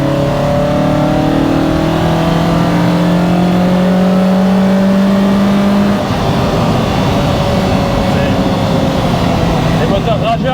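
A Lotus Exige S1's engine revs hard and close, its pitch climbing and sweeping upward before dropping back and building again, loud and continuous throughout.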